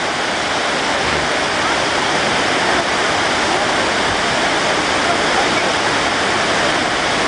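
Kapuzbaşı waterfall in Turkey, a loud, constant rushing roar of falling water filling the whole stretch with no let-up.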